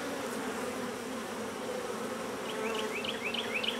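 Bees buzz in a dense, steady drone around an open beehive, close and continuous, with a few brief high chirps toward the end.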